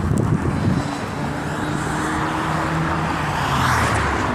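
A car speeds past on a street in Phoenix, a loud steady road roar with engine drone holding for several seconds, close by, with wind noise and no voices.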